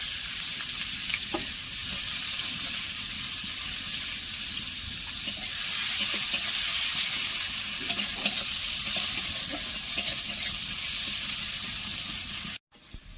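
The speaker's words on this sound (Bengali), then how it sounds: "এই তেলটাতে আমি পেঁয়াজ কুচিগুলো দিয়ে দিলাম।" Chopped onions frying in hot oil for a rui fish korma, a steady close sizzle that holds for the whole stretch with no talk, ending with a brief cut near the end.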